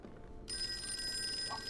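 A telephone in the horror game Call of Cthulhu starts ringing abruptly after a near-silent moment, a bright sustained electronic ring over faint background ambience.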